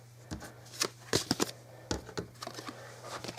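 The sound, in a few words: handling threat cards from Shadows of Brimstone board game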